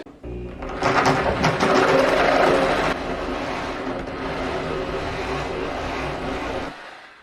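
A reciprocating saw chews into a door deadbolt, a loud, steady buzzing drone that surges harder for the first couple of seconds, then settles into a continuous grinding hum until it cuts off near the end.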